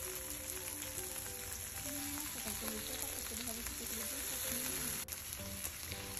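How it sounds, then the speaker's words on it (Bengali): Dried fish, hidol and chepa shutki, frying in a pan with a constant dense sizzle and crackle, near and steady, while someone talks softly over it. "তারপরে এইটা ভালো করে ফ্রাই করে নিতে হবে এপিট ওপিট করে"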